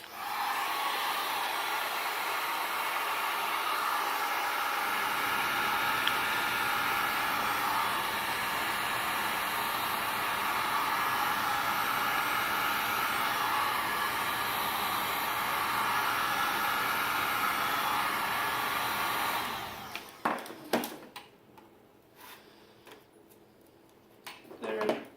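A heat gun blows hot air over an LED strip for a Pontiac Fiero sidemarker, a loud steady hiss held close for about twenty seconds before cutting off, followed by a few handling clicks and knocks.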